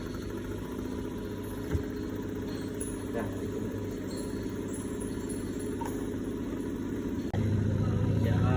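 A rotary evaporator's motor runs after start, giving a steady mechanical hum with a faint whine that continues throughout and grows slightly louder near the end.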